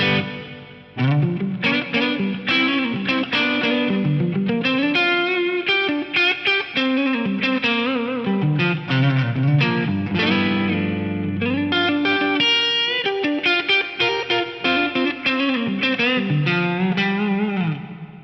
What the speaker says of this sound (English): I'll kick in the SPX90 on this program number 1, Hall Reverb